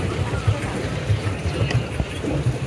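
Boat ride on Sukhna Lake, with a steady low engine rumble and wind buffeting the microphone as the boat moves across the water, continuous throughout.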